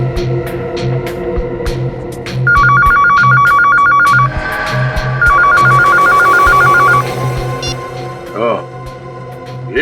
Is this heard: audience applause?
no